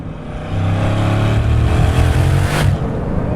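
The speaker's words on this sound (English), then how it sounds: "Wait for a second for the boost to build, but then it comes on, and it comes on strong." A hypercar engine pulls hard under acceleration, a deep sustained roar that swells as turbo boost builds, loud and close with no talk over it.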